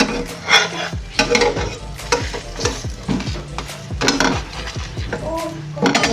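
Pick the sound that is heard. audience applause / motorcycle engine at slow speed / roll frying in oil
roll frying in oil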